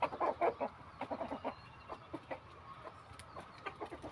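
Native desi chickens on a farm cluck quietly and intermittently nearby, in short, uneven bursts with no talking.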